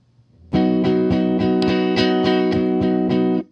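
Distorted electric guitar strummed through a drive pedal turned up high in a steady rhythm, about eight even chord hits ringing with thick overdrive, loud and alone.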